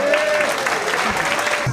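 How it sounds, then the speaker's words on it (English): Brief burst of audience applause at a Caribbean comedy show in Los Angeles, dense clapping filling the room at steady loudness, with a voice briefly heard over it near the end. "give them a clap."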